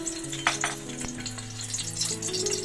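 Beaten eggs hit hot oil in a pan and crackle into a bright, steady sizzle, with a short splashy burst at the pour and background music playing throughout.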